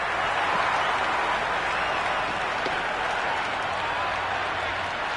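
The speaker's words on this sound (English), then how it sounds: "there's a fantastic crowd ambience at the moment" Steady crowd ambience with applause-like noise from a stadium full of spectators during an England vs Australia Ashes Test match in the cricket video game Cricket 26, a dense continuous wash of clapping and murmur with no clear individual voices.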